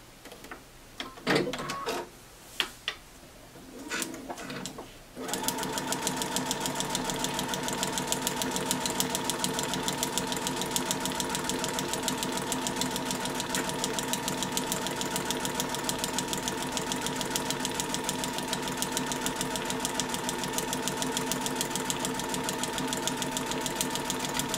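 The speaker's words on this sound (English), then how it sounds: "I'm going to sew right down that line between the two." A sewing machine runs steadily while stitching a straight seam between quilt pieces for a bursting stars block. The whirring motor hum sets in after a few seconds of handling noises and continues without a break, close and even.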